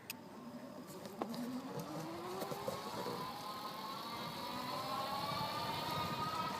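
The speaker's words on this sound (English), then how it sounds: "I am in twist and go mode, so I'm going to go ahead and just twist this and let you listen to the bike" IZIP E3 Ultra electric bike hub motor on twist-and-go throttle, a steady whirring whine that rises in pitch as the bike accelerates, with outdoor background noise and no talk.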